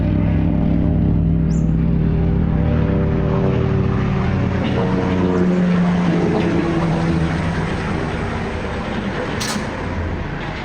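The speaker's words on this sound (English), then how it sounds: "The helicopter that just drove over?" A steady, loud low rumble of a helicopter passing overhead, fading slightly toward the end, with no talking.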